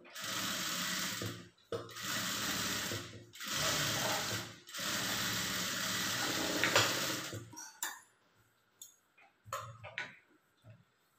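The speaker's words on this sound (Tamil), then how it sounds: "இப்போ இது மேலே வந்து டாப் ஸ்டிச் வந்து போட்டுக்கலாம்" A sewing machine top-stitching blouse fabric runs in several steady bursts with short pauses between them, then gives way to quieter handling and scattered clicks near the end.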